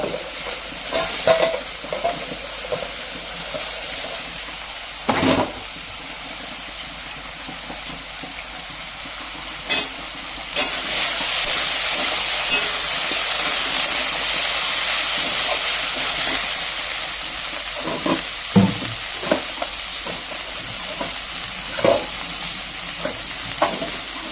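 Curry cooks in a pan with a steady, close sizzle and hiss, broken by occasional scraping knocks of stirring throughout.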